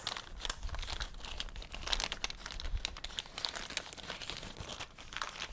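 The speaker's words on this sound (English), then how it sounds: "sorry for all the crinkling" Paper and plastic embellishments crinkle and crunch continuously up close while a scrapbooking page is finished, a busy, faint rustle with small crackles throughout.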